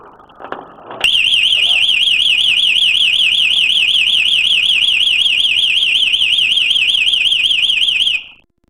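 A MELODIA alarm system sounds after its tamper protection loop is triggered: after a brief click, a loud, piercing warbling siren runs continuously for about seven seconds, then stops abruptly.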